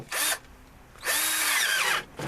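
A power drill fitted with a 5/16 inch bit tightens no-hub bands on a sump pump pipe in a pit: two loud whirring bursts, a short one then a longer one winding down, and a third starting at the end.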